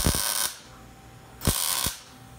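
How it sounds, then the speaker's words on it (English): Metal body panels on a 1964 Ford Fairlane race car project are tapped into place before welding, with two bursts of bright, ringing metallic strikes separated by a quieter pause, close and fairly loud. "Tapping it all in."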